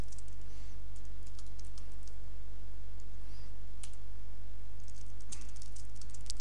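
Keys clatter on a computer keyboard during C code editing, with quick irregular bursts of typing and clicks close by over a steady low hum, with no one speaking.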